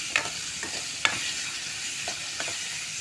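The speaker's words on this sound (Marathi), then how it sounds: "तर त्याच्यामध्ये हे मी मिरचीचे तुकडे घालते, ते परतून घेते." Chilli pieces and onion sauté in a hot pan, a soft continuous sizzle broken by a few sharp spoon scrapes and clinks against the metal, close and without talking.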